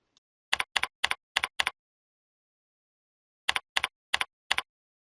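Two bursts of keys tapped on a computer keyboard while a username and password are entered, five crisp clicks, a pause of about two seconds, then four more, close and clear in a quiet room.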